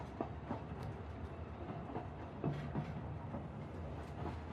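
A passenger train rolls along the tracks as a steady low rumble with scattered faint clicks and clunks from the wheels, continuous and moderately distant with no voices.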